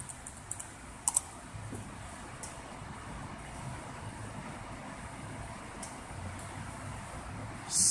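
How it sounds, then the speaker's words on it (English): Soft, quick clicks of a MacBook A1150 keyboard as a password is typed, faint and close over a steady low hum, with a few sharper taps early on. "Type in the password supplied."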